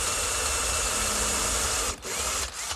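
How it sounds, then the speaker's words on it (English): A steady, high-pitched whine of a small power drill boring a pilot hole in wood, running continuously, briefly dipping near the end as the bit catches, close and fairly loud. "Pre-drill a little hole."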